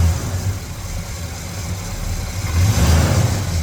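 The 455 engine of a 1969 Oldsmobile 442 tribute with an automatic transmission runs close by with a throaty low rumble and rises into a short rev near the end.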